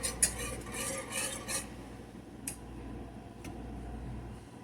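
A sauce is whisked in a pan, with a few light metallic scrapes and clinks early on and scattered later over a quiet background.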